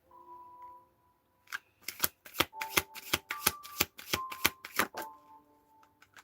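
Rapid bursts of crisp tarot-card shuffling snaps, a dozen sharp riffles in a steady rhythm, close and fairly loud after a brief quiet start with a faint hum.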